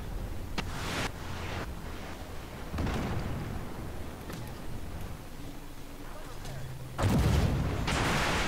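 Tank guns fire in the armored combat game Armored Warfare, heavy booming shots near the start and a louder blast near the end, over rumbling battle noise.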